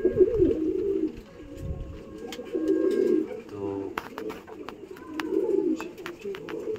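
Blue-beaked pigeons coo in low, rolling phrases close by, repeating several times with a person talking in between and some light tapping sounds.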